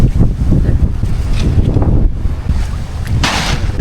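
Strong wind buffets the microphone in heavy, continuous gusts, rumbling low and loud throughout.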